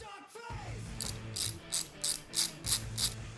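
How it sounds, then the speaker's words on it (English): A socket ratchet loosening the T55 fork stem bolt on a Harley-Davidson Sportster clicks in six short, evenly spaced bursts of pawl ratcheting, close and fairly crisp, after some brief handling noise. "So now I'll loosen up the fork stem bolt, and for this, it's a T55."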